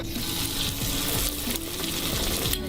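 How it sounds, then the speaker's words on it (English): Food deep frying in hot oil, a dense, steady sizzle and bubbling crackle heard close and alone, with faint clinks and stirring through it. "Now guys, deep frying is not the healthiest option here"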